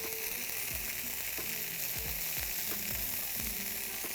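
Potatoes frying in a hot pan give a steady, close sizzle throughout, with several low scraping knocks as they are stirred.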